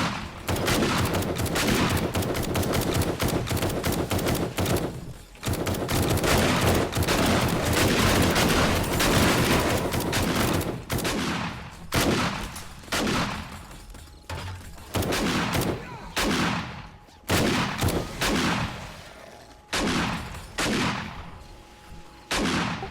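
Gunfire in 7 Days to Die roars as dense, sustained bursts from several weapons, loud and close. The shooting breaks into choppier volleys with short pauses in the second half. No one talks over it.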